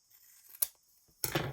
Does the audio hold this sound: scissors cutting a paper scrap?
yes